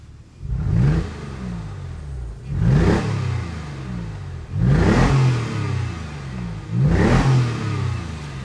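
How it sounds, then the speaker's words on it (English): A Porsche 911 997.1 Cabriolet with a Designtek sports exhaust is revved four times in a steady rhythm, each rev a deep, loud exhaust surge settling back to a rumbling idle between blips. "the Designtek sports exhaust, it sounds absolutely amazing, and let me illustrate for a moment"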